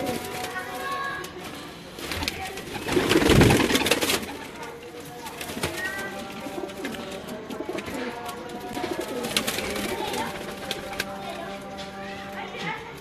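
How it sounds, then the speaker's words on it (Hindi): Pigeons coo on a rooftop in Rehmanpura, Ichhra, with repeated soft low throaty calls, a brief flurry of fluttering wings in the middle, and someone talking over the birds throughout. "मियाँ साहब वाले कबूतर हैं ये।"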